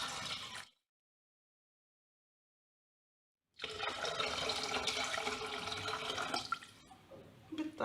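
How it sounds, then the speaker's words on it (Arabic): Water poured into a cooking pot for a Tunisian-style chicken and pea stew, a steady close splashing and filling rush after a brief silence, fading toward the end. "وباش نضيفو زادا الماء"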